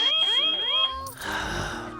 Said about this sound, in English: I'm glad I put the smoke detector in.